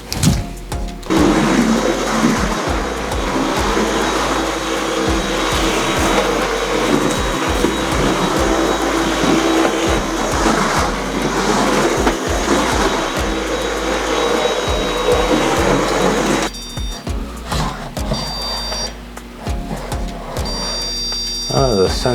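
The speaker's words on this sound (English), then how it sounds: "just vacuum this floor real quick" A vacuum cleaner runs steadily on a floor indoors, a loud continuous whine with broad motor noise that shifts briefly near the end, with someone talking over it.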